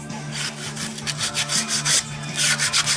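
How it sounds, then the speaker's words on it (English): Wooden roof console part for a Ford Ranger rubbed by hand with sandpaper, a close, rhythmic series of rasping back-and-forth strokes, about three per second. "I'm just going over with sandpaper so when we follow it we don't get any of these inconsistencies replicated on the part"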